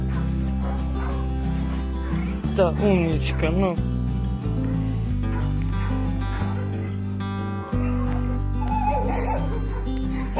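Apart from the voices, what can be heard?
dog whimpering and yipping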